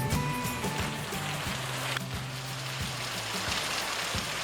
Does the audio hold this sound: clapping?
no